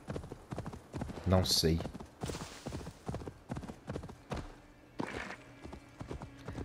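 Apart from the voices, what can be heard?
horse hooves clip-clopping, from video game Assassin's Creed Valhalla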